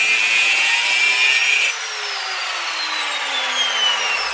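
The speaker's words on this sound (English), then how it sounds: "I got a grinder, it's a little bit quicker." An angle grinder cuts through half-inch threaded rod, giving a loud, close, high-pitched metallic whine that dips in pitch partway as the disc bites deeper, then winds down steadily, with no talking.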